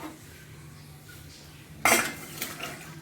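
A cooking pot of jackfruit is lifted off a kitchen stove with a sharp metallic clink and clatter of pan against metal, then a second softer clink, over faint room hum.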